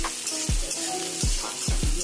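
Chopped onions frying in oil with garlic and chili, a constant bright sizzle broken by four dull knocks of a spoon against the pan as they are stirred; no speech.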